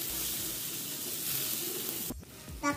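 Onion, tomato, ginger and garlic sizzle in a hot pan, a steady loud crackling hiss that suddenly drops away near the end, followed by a short clink.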